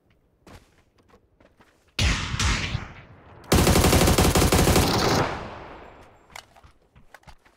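Loud bursts of automatic gunfire in a competitive shooter video game, a short volley followed by a longer sustained burst of rapid fire that then fades, with faint footsteps and quiet game sounds around it.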